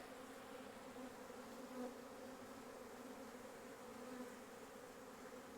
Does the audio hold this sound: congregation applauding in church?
no